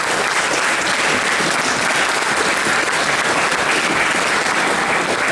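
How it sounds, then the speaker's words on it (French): Dense, steady applause from a screening audience fills the whole stretch, loud and continuous with no talk over it. "On les applaudit s'il vous plaît."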